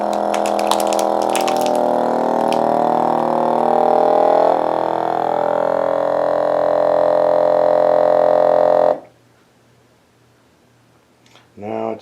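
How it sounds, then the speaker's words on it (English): A kitchen vacuum sealer pumps air from a bag of dehydrated fruit and vegetables. A loud, steady motor hum runs for about nine seconds, then cuts off abruptly, leaving near silence with a short noise at the end. "So just hit vacuum and seal."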